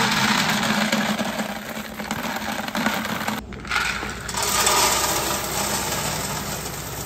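Wood pellets from a smoker being dumped out, a dense, continuous rattling pour of small hard pellets lasting several seconds with a brief pause midway, close and fairly loud, no voices.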